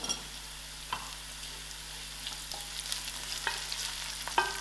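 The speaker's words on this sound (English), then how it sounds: "I will let this fry for a little more while" Onions softened in oil with a cinnamon stick, cumin, fennel and cardamom sizzling in a pan for a brinjal curry, a low steady fry with occasional scraping stirs and light clinks, no voice present.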